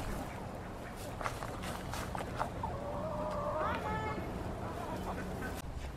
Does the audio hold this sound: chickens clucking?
yes